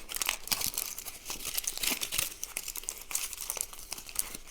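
A 6 by 3 inch piece of aluminum foil from a tiny survival kit is crinkled close up, giving a continuous dense crackling and rustling that runs throughout with no talking.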